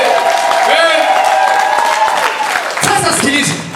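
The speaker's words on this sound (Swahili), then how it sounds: "piga makofi ya juu kabisa tena tusikize" A church congregation claps loudly together, a dense sustained burst of applause, with a preacher's amplified voice speaking over it before the clapping swells near the end.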